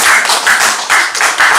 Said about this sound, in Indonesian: Nah, mantan ketua tepuk tangan.